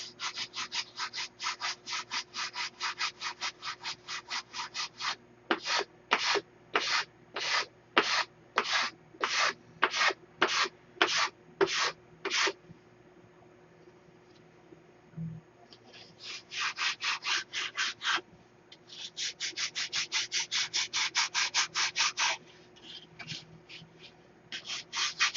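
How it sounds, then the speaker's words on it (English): Sandpaper worked by hand over a wooden airfoil, giving rapid rhythmic rasping strokes close up in quick bursts, a pause with a single soft knock, then more sanding strokes. "we'll finish the airfoil out with sandpaper"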